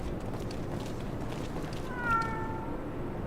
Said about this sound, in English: Look at the Munchkin kitty!